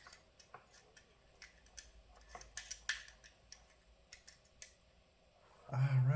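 Small metal clicks and ticks from unscrewing a watch back by hand, scattered and faint and close up, with a louder rustling scrape at the very end.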